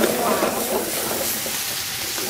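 Veal kidneys sear in a hot frying pan, giving a steady, close sizzling hiss that runs unbroken for the whole moment.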